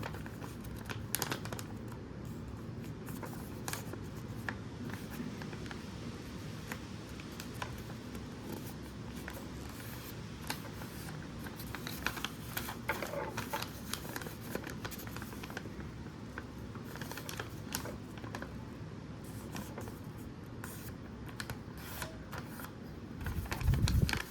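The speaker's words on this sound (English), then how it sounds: "Fold the side corners up to the 1/8 crease we left before." Paper being folded by hand into an origami envelope, side corners creased up, giving soft close crinkles, rustles and light taps, quiet and continuous with brief sharper crackles near the end.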